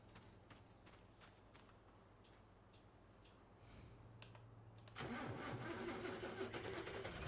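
A small tractor engine starting in the Farming Simulator 25 video game: a faint low idle hum with light clicks, then at about five seconds a sudden louder rumbling catch that runs on steadily.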